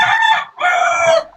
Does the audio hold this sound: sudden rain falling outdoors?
no